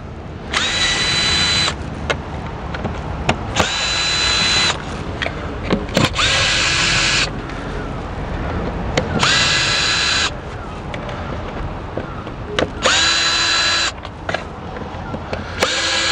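A power tool removes a couple of Torx 20 screws to reach a throttle body housing, giving five whirring bursts of a second or two each, separated by brief pauses and light handling clatter.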